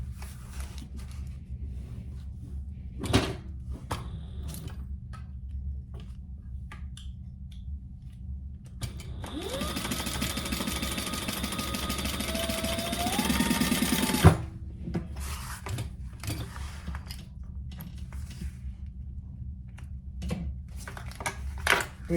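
A sewing machine hums in one steady burst of about five seconds, top stitching a splayed-open seam, close and clear, surrounded by quiet room noise and faint handling clicks.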